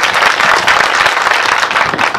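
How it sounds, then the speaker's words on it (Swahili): Audience clapping at an outdoor village land-dispute meeting with a Senate committee, a loud, dense and continuous burst of applause from many hands close by, with no talk over it. "Si tumpigie makofi."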